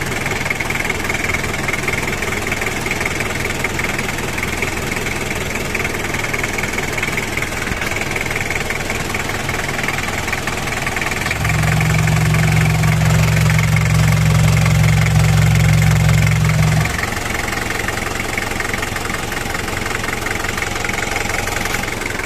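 A 2002 Daihatsu Taft Hiline 4x4 pickup engine idling close by, a steady rough hum that swells into a heavier, deeper drone for several seconds before settling back to its even idle.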